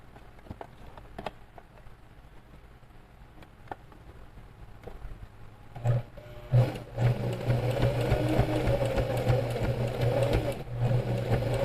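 A sewing machine carries on a seam on a fabric bag with an inset pocket. A few quiet clicks come as the presser foot drops, then the motor starts and hums steadily close by for the last several seconds.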